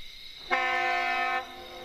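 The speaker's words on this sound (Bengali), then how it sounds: "একটা হর্ন দিয়ে ট্রেন চলতে শুরু করলো।" A train horn gives a single sustained, harmonic blast of about a second as the train pulls away from a deserted station, loud and fairly close above a quiet background.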